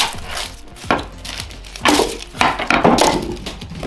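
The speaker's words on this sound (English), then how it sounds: "I'm just going to cut them in half" A knife cuts shallots in half on a board with several sharp, separate chops and knocks, loud and close, spaced unevenly.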